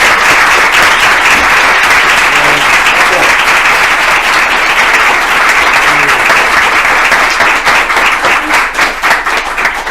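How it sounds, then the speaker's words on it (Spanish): Loud, sustained applause fills an indoor book presentation as an audience claps for author José Luis Fernández Infantes, a dense close wash of hands that stays steady for about ten seconds. "yo pido un fuerte aplauso para José Luis."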